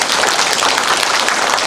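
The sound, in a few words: applause in church congregation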